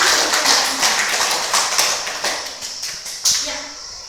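Students in a classroom applaud a presenting group, a dense run of claps that swells and fades over about four seconds, with a renewed burst near the end.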